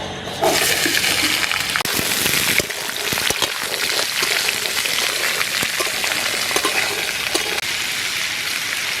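Pieces of raw hog plum drop into hot oil with dry chili and five-spice seeds, setting off a loud, sudden burst of hissing sizzle that continues strong and steady, with a few utensil clinks along the way.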